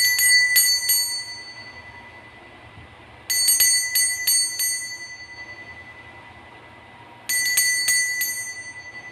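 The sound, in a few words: bell ringing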